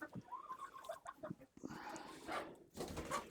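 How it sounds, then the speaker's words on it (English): Hens cluck and fuss in a cold homestead farmyard while they drink, with several close, irregular bird calls and scuffling noises filling the stretch. "I'm gonna let you guys watch the chickens get some drinks while I check for eggs"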